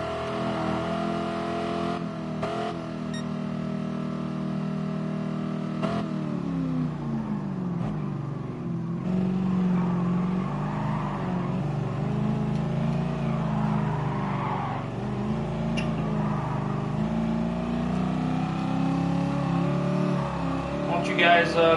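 A slow race car in the PS4 game GT Sport drones and revs continuously, its engine pitch rising and falling through gear changes, with a voice talking over it.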